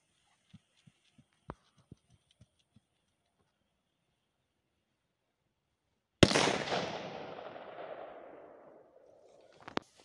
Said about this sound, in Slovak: Dneska budeme odpáľovať petardy.